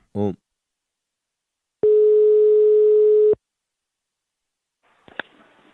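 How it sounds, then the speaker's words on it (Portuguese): Telephone line tones while a call is placed: a brief buzz, then a single steady tone lasting about a second and a half, followed by faint clicks and a short blip. "E agora eu vou ligar pra Raimunda"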